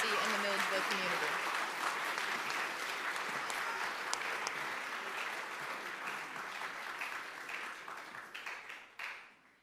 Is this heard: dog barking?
no